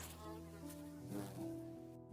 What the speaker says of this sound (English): Hornets are large social wasps that tend to be black or brown with yellow or yellowish markings.